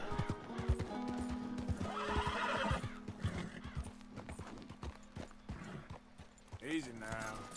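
A horse in Red Dead Redemption 2 gives a loud whinny near the start and another toward the end, while hooves clip-clop steadily throughout and someone talks over parts of it.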